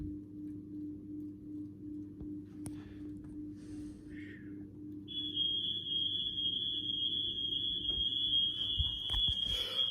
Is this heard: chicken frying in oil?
no